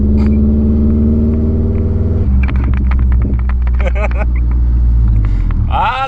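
A straight-piped Subaru with its muffler deleted lets out a loud, deep exhaust drone that shifts pitch partway through and keeps rumbling, with voices talking over it.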